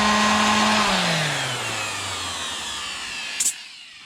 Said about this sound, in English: Just a basic orbital grinder.